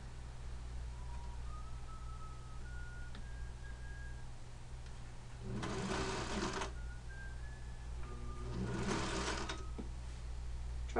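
Sewing machine stitching a jacket, running in two steady bursts of a few seconds each with quieter pauses and faint handling sounds between them, close and without speech.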